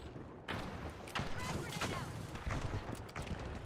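Grenades bursting in midair during a first-person shooter, a run of quick muffled explosive pops and thuds at moderate distance, with a person talking over them.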